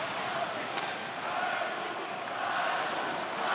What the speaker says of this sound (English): crowd urging on Slovakia